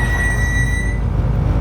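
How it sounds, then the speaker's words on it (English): Brakes on an LS-swapped BMW E36 squeal loudly in a steady, piercing tone over low road rumble, fading out partway through, with no talking. "I definitely need to do something about these brakes though, because they are obnoxiously loud."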